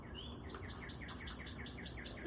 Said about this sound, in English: You hear the birds. They are really showing out for you today.